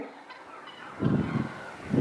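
Free-range country chickens on a farm, a couple of short, muffled clucking bursts rising out of quiet outdoor background at moderate distance.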